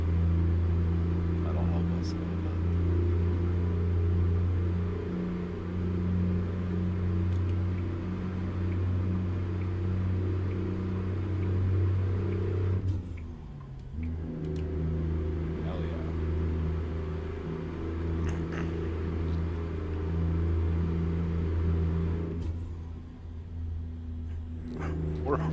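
Steady truck engine drone in American Truck Simulator with a brief dip and drop in pitch as a gear is shifted down midway, then the low hum resumes, with another short lull near the end.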